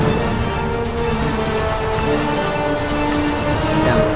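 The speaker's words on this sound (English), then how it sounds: "There's current reports of crazy rain going on." Steady rain in Minecraft, a dense continuous hiss of falling water, loud and unbroken throughout, with no speech over it.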